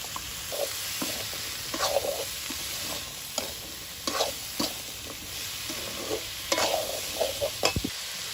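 Boiled taro and potato being stirred with crab in a frying pan: repeated scraping strokes of a spatula over a soft background sizzle, close and moderately quiet.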